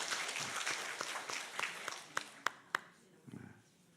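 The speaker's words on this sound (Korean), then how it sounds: "같이 박수로 환영해 주시기 바랍니다." A church congregation claps together during a Sunday worship service, a dense patter that thins into a few scattered sharp claps and then fades, with faint murmuring at the end.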